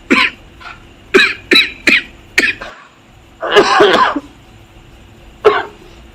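A run of sharp, separate coughs comes close to the microphone, then a longer rough throat-clearing fit and one final cough.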